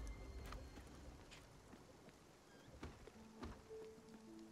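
Soft steady rain patters across a boat's surroundings in the video game Spiritfarer, a quiet diffuse wash with scattered drop ticks and faint chimes over it, no voices.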